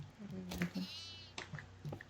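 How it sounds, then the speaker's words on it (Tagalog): A goat bleats in the Devour horror game's farmhouse, a few short, wavering cries heard at moderate distance, with players talking over and around it. "Ito, kambing."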